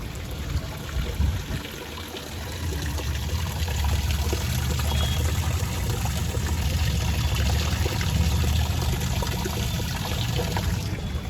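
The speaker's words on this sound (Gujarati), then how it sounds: "અહીંથી તો જો પાણી નીકળે." An overfilled water tank overflows, and water gushes and pours out in a loud, steady rush that lasts the whole time.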